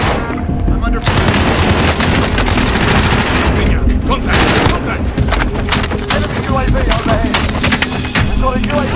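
Rapid, dense gunfire from the video game Warzone, Season 3 Reloaded, with bursts of automatic weapons and explosions layered loudly and continuously, alongside game voice callouts.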